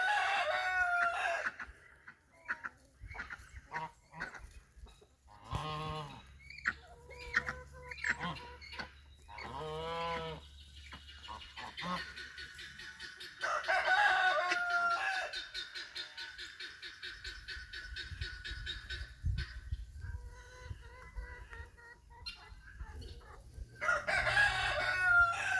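Female ducks call out loudly and often in a poultry yard, a run of honking, squawking bursts of varying length across the scene, sometimes overlapping and with quieter stretches between them.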